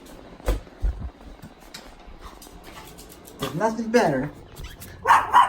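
A puppy barks in short bursts, a couple of quick yips early on and then a louder string of barks near the end, with people talking.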